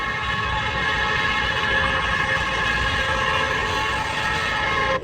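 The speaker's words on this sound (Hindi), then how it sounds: "यहाँ चलने वाली टॉय ट्रेन में बैठकर एक बार इस" A toy train running at Lucknow zoo, giving a steady mechanical hum with a whistle-like tonal drone above the rumble, loud and continuous until it cuts off abruptly near the end, with no talking.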